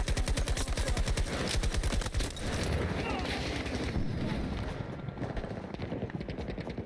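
Rapid automatic gunfire from the Battlefield 2042 video game rattles in dense bursts for the first couple of seconds, then thins into scattered shots and a rumbling battle ambience.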